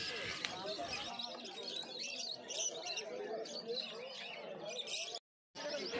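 Many caged budgerigars chirp and twitter together in a busy, continuous chorus at a bird market in Uluberia, with people talking nearby and market bustle around them.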